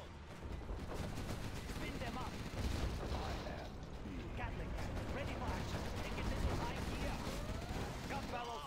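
Rapid-fire guns spun up and firing in a game, a dense continuous stream of shots layered with clattering mechanisms and a person talking over it throughout.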